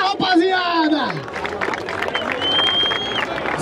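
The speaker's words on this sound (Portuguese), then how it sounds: "palmas dessa batalha, rapaziada!" A crowd at a Barueri freestyle rap battle claps and cheers in a dense, loud wash of hands and whoops, with a voice shouting over it at the start.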